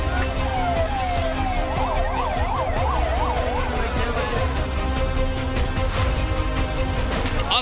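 An ambulance siren wails at a building collapse site in Kota, Rajasthan, its rising and falling warble cutting through dense, steady crowd and street noise before fading into the general commotion.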